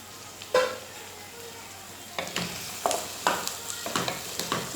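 Tomatoes dropped into a hot pan and stirred for rava upma, a soft sizzle under a series of spatula scrapes and knocks, close and moderately loud, with no talking.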